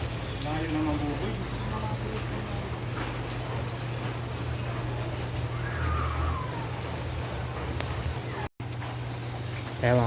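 Rain falls steadily in a broad, constant hiss outdoors at a scrap collection pickup, with a low engine-like hum underneath and faint scattered voices.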